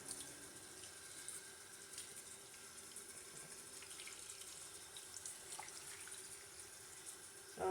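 Water drains and trickles out of a sink after dolls have been washed in it, a steady soft running sound with faint splashes, fairly quiet and continuous with no talk.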